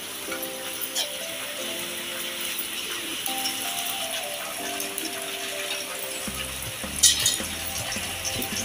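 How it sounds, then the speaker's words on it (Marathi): Ginger garlic paste sautéing in hot oil for a chicken rassa, a steady soft sizzle and crackle running throughout with a brief stirring rattle near the end. "इथे 1 चमचा आलं लसूण पेस्ट टाकते. थोडा अर्धा मिनिट परतून घेऊया."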